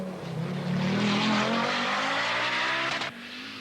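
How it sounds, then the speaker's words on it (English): A 1984 Audi Quattro rally car competing on tarmac at the Welsh Rally, its down-on-power engine rising in a loud, steady drone as it passes close by, then cutting off sharply near the end. "Michel Mouton's down-on-powered engine is compounding the Quattro's tarmac disadvantage."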